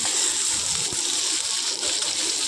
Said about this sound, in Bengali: তো এর মধ্যে আমি দিয়ে দিলাম কেটে রাখা আলুর টুকরোগুলো।